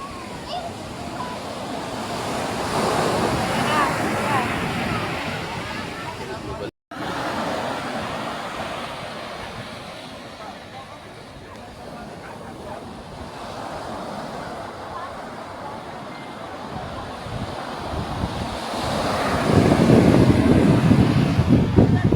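Ocean waves surging along a windy shore, a broad steady roar with gusting wind buffeting the microphone, swelling louder near the end, with people talking faintly now and then.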